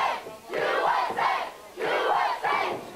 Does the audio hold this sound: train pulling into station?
no